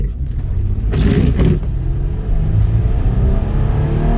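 Engine of a 2015 Nissan Xterra Pro-4X revving and accelerating on a test drive, a steady close rumble with a rising roar, heard from inside the cab.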